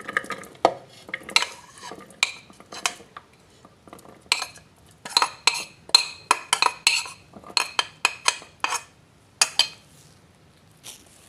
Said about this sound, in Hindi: चॉपर में डालते हैं चॉप करने के लिए।